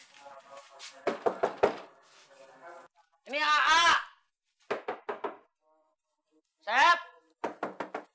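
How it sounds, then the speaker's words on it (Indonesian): Several sharp knocks on a door in short bursts, set between people talking close by. "Udah kau ketok aja."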